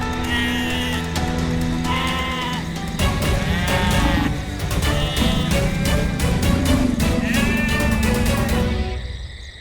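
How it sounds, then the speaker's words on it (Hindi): Goat bleating loudly and repeatedly, layered over dramatic background music in a television comedy scene set near a tiger, with no speech over it. "अरे हमारी बकरी उस जालिम के जबड़े में फंसी हुई है।"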